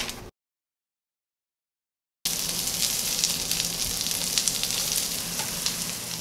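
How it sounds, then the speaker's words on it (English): Keto salmon and crab cakes fry in a hot pan with a steady, loud, close sizzle after a brief cutout of total silence; no one talks. "and we are going to fry these up."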